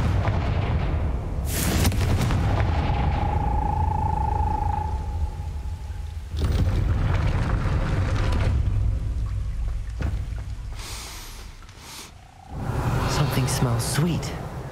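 Confringo blasting spell fired at a gate in the Hogwarts Legacy video game, heard as several loud booming explosive blasts with a whooshing magical tone between them, set among game music and ambience.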